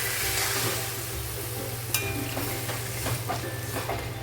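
Water goes into fried spice masala for paneer pulao in a hot pan, raising a close, loud sizzle with a sudden hiss partway through, followed by stirring scrapes and crackling bubbles.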